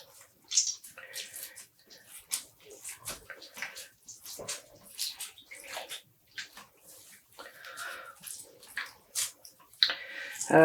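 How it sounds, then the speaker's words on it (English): Wet dyed tweed yarn squeezed by hand to press out water, giving repeated squishing, dripping and splashing bursts in short uneven clusters, close by. "squeezing the water out."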